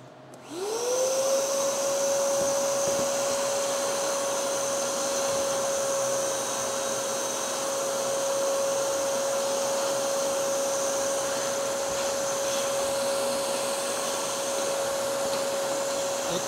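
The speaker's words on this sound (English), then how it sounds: "Want me to run that vacuum while you do it" A vacuum cleaner switches on and runs steadily with a constant whine and airy roar, close and unchanging for the whole stretch, with no voices.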